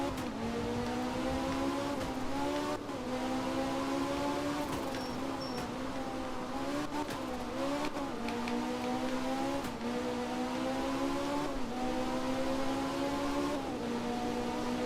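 A rally car engine in the video game art of rally drones steadily throughout with a buzzy five-cylinder-like tone, its pitch rising and dipping through gear changes and throttle lifts, loud and close with no speech.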